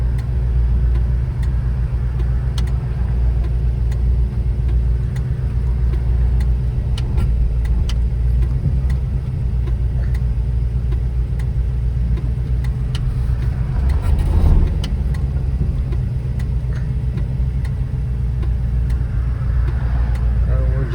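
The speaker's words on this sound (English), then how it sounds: "we're going to take the 1969 AMX for a drive just so you can see how it is behind the wheel" A 1969 AMC AMX driving, heard from inside the cabin as a steady low engine drone with road rumble and occasional ticks, continuous throughout.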